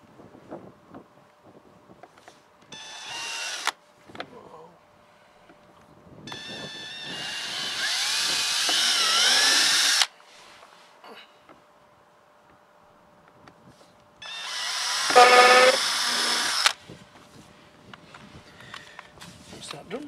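A power drill drives self-tapping screws to fix a number plate onto a caravan, whirring in three separate bursts, the middle one longest, with quiet handling noises in between.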